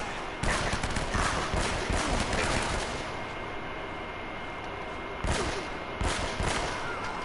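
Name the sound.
pistol gunfire in Uncharted: Drake's Fortune video game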